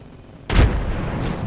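A frag grenade detonates in a video game, one loud, close boom with a low, heavy rumble that stays in a lingering roar.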